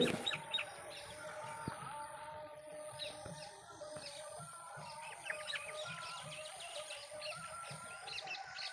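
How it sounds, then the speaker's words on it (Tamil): Many parrots and mynas chirp and call over one another continuously in rainy weather, a busy, noisy chorus of squawks and whistles at moderate distance. "இந்த பறவைகள் குறிப்பாக கிளி க மைனாவெலாம் ரொம்ப சத்தம் போட்டு கத்திக்கிட்டே இருக்குது"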